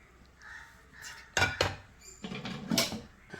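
Metal spoon scrapes and clinks against a pan as brinjal stir-fry is moved into a bowl, a few sharp knocks followed by softer scraping, close by and fairly quiet with no talk.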